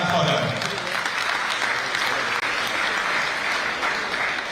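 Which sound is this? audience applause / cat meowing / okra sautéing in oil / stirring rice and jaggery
audience applause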